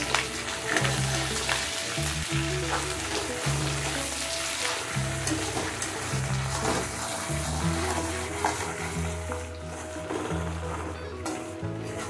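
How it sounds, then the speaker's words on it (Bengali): A fish head fried with turmeric, salt and coriander powder for a moong and masoor dal, giving a continuous loud close sizzle with intermittent stirring scrapes throughout, no voices. "হলুদ দিয়ে দেব। লবণ দিয়ে দেব। দিয়ে ভালো করে কষিয়ে দেব।"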